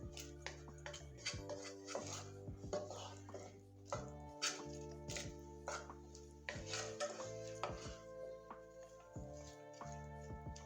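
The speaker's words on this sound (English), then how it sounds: "some salt, some black pepper. And I'm just gonna mix this" Chickpea curry with salt and black pepper is stirred in a pan, a spoon clanking and scraping repeatedly in an uneven rhythm, close by over a steady background hum.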